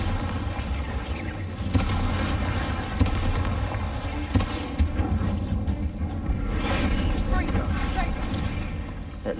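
A Bombarda spell explodes in the video game Hogwarts Legacy, with booming blasts and whooshes layered over a dense, loud game soundtrack, and a character's voice heard during the action.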